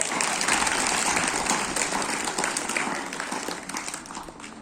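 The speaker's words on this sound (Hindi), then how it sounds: "उनके लिए एक बार जोरदार तालियां हो जाए।" An audience at a school gathering in India gives a sustained, full round of clapping that stays dense and loud throughout, tapering only slightly at the end.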